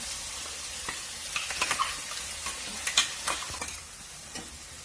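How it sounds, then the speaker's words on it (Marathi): Paste for a mixed vegetable curry sautéed and stirred in a pan, with soft sizzling and scattered spoon scrapes and clicks in an irregular rhythm, close and fairly quiet. "ती गिरवी याच्यामध्ये टाकायची आणि चांगली परतून घ्यायची"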